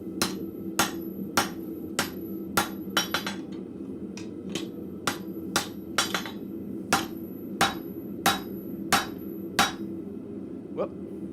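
A blacksmith's hammer strikes hot metal on an anvil in a steady rhythm, about fifteen sharp ringing blows at close range, some in quick doubles, with no talk over them.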